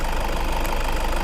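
A warm 2010 Toyota Innova diesel engine with 135,000 km idles steadily, a loud, even clattering drone with a faint rhythmic knock and no voices.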